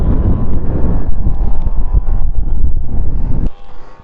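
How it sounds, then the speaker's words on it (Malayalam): Strong wind gusting across an exposed rocky hilltop at Thangal Para in Vagamon, a loud continuous roar buffeting the microphone that suddenly drops away near the end. "നല്ല കാറ്റുണ്ട് ഇവിടെ"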